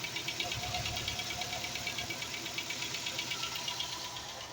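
A 1986 Dodge Daytona engine runs steadily after a cylinder head and timing belt replacement, giving a quiet, even idle with a fast rhythmic ticking pulse and a light knocking undertone, heard alone at a moderate distance.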